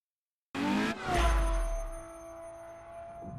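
Ferrari LaFerrari hybrid supercar in The Crew Motorfest video game, engine sound rising after a brief start, with a sustained low rumble and steady tonal whine fading slowly.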